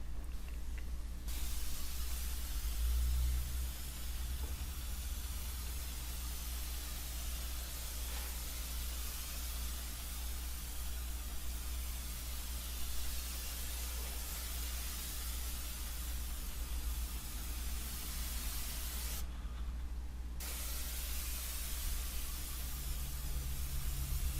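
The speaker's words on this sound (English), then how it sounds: "when we spray painting the top portion of the wall" A paint sprayer hisses steadily and loudly for a long stretch, spraying the top of a cinder block wall, a continuous broadband spray with two brief pauses.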